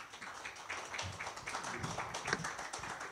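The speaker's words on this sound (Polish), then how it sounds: "Witamy serdecznie, wielkie brawa." A studio audience at a Polish debate on cashless versus cash society applauds to welcome a guest: moderate, uneven clapping with distinct individual claps, at medium distance and fairly quiet.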